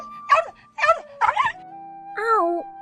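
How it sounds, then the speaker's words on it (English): An injured hunting dog with a hurt leg whimpers in a few short, close yelping cries, then gives one longer whine over a faint steady tone. "The hunting dog that went out for hunting came back with its leg hurt."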